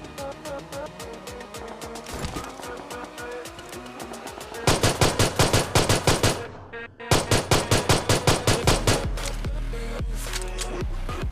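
Rapid automatic gunfire bursts and single shots from PUBG Mobile gameplay, a pistol among the weapons, loud and repeated in quick rhythmic volleys over a steady game soundscape, with heavier clustered bursts midway.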